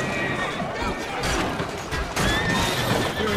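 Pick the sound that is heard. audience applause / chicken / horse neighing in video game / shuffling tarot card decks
horse neighing in video game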